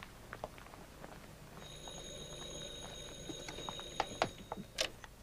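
A telephone rings in a quiet room in an old German-dubbed drama film, a steady electronic-sounding tone with brief clicks and knocks around it, fairly faint.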